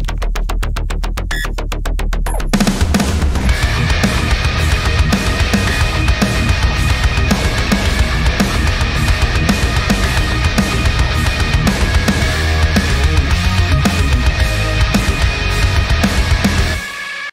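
Dense, loud Doom Eternal-style metal track built in Studio One, opening with a brief glitchy stuttering burst before heavy distorted guitars and pounding drums drive on continuously, with no voices.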